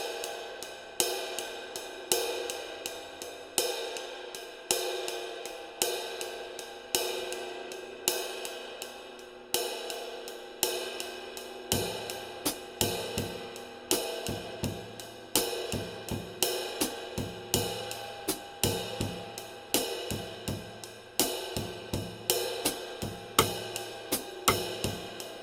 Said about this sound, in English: when I play the Bossa Nova rhythm in the right cymbal pattern, sounds like this.